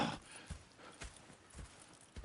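Horses in the video game Red Dead Redemption 2 clip-clop at a steady walking pace, each hoof thud clear and close, with no talk over the hoofbeats.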